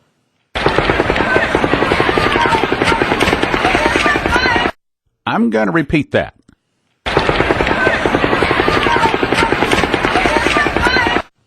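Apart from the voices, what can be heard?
distant rifle reports, low frequency gunfire recording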